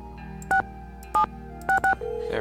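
Telephone keypad tones dialed in the Nancy Drew game Secret of the Scarlet Hand: four short crisp beeps, one alone then a quick pair, over a faint steady hum, followed by a ringing tone starting.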